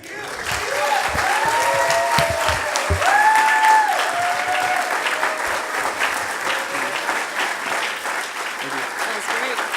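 Audience applause at a youth service, a steady wash of clapping that swells early and holds, with a voice speaking over it.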